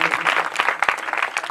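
An audience at a community event gives a burst of applause, with dense clapping, moderately close, that stays steady throughout without any voices over it.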